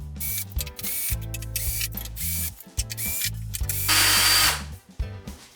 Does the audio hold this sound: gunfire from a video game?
no